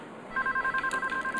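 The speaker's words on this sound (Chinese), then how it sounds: "电话来了" A telephone rings in a steady electronic warble, with repeated short bursts that begin a moment in, clear and fairly close, with no voices.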